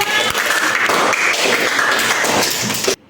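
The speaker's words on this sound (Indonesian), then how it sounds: "Kasih tepuk tangan untuk kelompok 5" Steady applause from a class fills the room, dense and even for about three seconds before cutting off abruptly.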